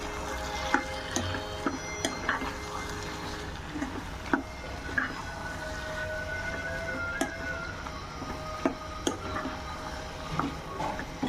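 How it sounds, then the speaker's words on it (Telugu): Chicken and brinjal curry is stirred in a pan, a soft continuous sizzle with regular light scraping clicks of the spoon against the metal. "ఇప్పుడు వేసేసుకుని ఇది ఒకసారి తిప్పేసుకుందాం"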